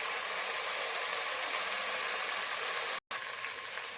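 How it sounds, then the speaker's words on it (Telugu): Vegetables fry in hot oil for a vegetable pulao with salt, giving a steady dense sizzle and crackle close by. It drops out for a brief moment near the end, then resumes at the same level. "ఇప్పుడు ఫ్రై అయిపోయిందండి."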